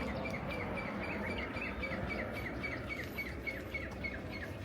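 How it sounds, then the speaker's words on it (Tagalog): Faint birds chirp in repeated short calls on a hiking trail at Mushrif Park in Dubai, over a steady hiss of insects or background ambience, with no voices. "Ibon."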